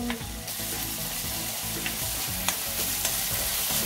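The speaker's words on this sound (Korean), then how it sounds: "후라이팬이 살짝 달궈지면 대파를 넣을 거예요." Chopped green onion sizzles and fries steadily in a hot pan for fried rice, a continuous crackling hiss with small pops and occasional stirring scrapes, close and alone with no talking.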